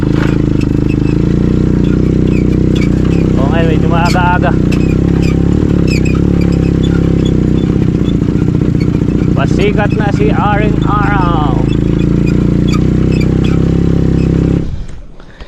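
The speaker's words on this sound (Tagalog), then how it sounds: "Yung makina ng bangka." A boat engine drones steadily throughout, loud and continuous, with someone talking over it in Filipino before the noise cuts off at the very end.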